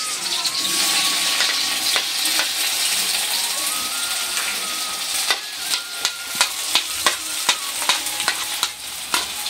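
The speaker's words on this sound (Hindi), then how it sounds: "तेल गरम हो गया है, और सबसे पहले डाला हमने प्याज" Onions dropped into hot oil in a pan for a vegetable Maggi noodle dish, a loud steady sizzle and hiss with repeated stirring scrapes growing more rhythmic toward the end.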